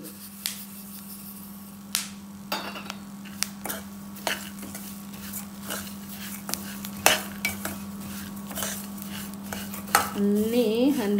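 Flax seeds and sesame seeds are stirred and roasted in a pan on a low flame, the spoon clinking and scraping against the metal in irregular taps over a faint sizzle. A voice enters briefly near the end.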